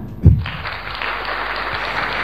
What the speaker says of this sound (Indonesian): Tepuk tangan dulu untuk Mbak Mufita Wafiana.